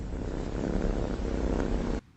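A pet cat purrs close up in a steady, rumbling rhythm for about two seconds before the sound cuts off abruptly.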